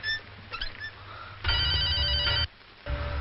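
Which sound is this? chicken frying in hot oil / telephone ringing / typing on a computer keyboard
telephone ringing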